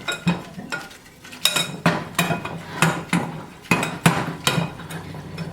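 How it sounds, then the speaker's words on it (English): A metal whisk beating flour into a mixture in a pot, rhythmic scraping and clinking strokes against the pot's sides in quick irregular bursts, close and fairly loud, with no talking. "Keep whisking. Just keep whisking, just keep whisking."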